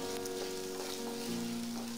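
Potatoes fry on low heat with kasuri methi and spices, a soft, even sizzle that holds steady under a faint background hum.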